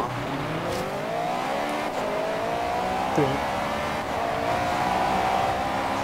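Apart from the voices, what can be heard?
Honda VTEC engine revving in video game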